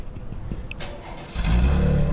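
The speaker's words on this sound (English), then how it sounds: "then it goes ahead and starts the car up" A 2018 Chevy Camaro RS convertible with a V6 engine starts by remote, the starter catching midway and the engine settling into a loud, close idle rumble after a quieter lead-in.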